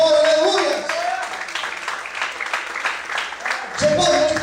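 Church congregation clapping and cheering during a sermon, a busy spread of hands rising and falling over several seconds with voices mixed in.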